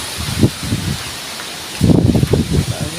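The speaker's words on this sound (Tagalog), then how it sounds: "Lakas ng hangin inang oh." Strong typhoon wind rushes and rustles through foliage in loud gusts, with bursts of blustery noise and a soft voice murmuring briefly.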